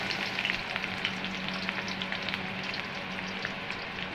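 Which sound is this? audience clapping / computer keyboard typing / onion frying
onion frying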